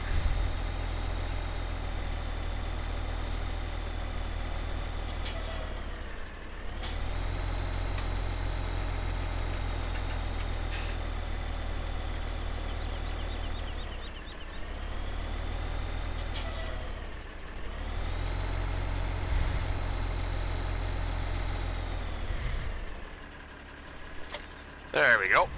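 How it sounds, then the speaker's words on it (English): Tractor engine idling in Farming Simulator 17, a steady low rumble running close and loud throughout, with brief dips around six and fifteen seconds and air-brake-like hisses near the end. "Get the tractor put in here"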